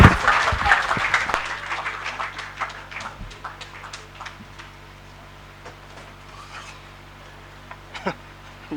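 An audience at an agricultural institute visit in Abuja claps to welcome a speaker, a short loud burst that quickly fades into scattered claps, a few knocks and quiet room noise.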